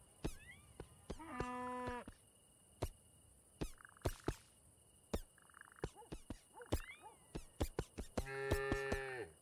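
A cow in a golf video game moos in a few short tonal calls, mixed with sharp clicks and small game sound effects, fairly faint throughout.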